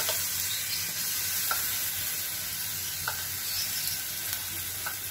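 Tomato puree sizzling in a pan of frying spices with cloves and star anise, a constant loud hiss with a few faint stirring taps, near and without voices.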